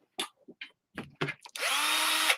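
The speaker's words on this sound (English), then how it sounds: "Power drill." Brief talk gives way to a power drill spinning up on a Macintosh Color Classic, a sudden close whine that holds steady for just under a second.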